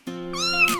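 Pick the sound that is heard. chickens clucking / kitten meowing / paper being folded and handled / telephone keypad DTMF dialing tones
kitten meowing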